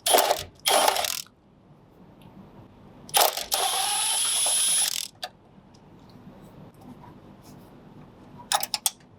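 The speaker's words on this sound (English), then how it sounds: "Drop the bolt there." A metal bolt dropped during head gasket replacement on a Toyota Prius, heard as a few sharp metallic clatters and rattles, near and fairly loud, spread across quiet shop background with no talking.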